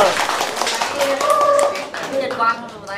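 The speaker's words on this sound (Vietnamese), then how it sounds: "Vỗ tay nào." A group clapping at a restaurant's year-end staff party, quick bursts of hands heard close alongside people talking throughout.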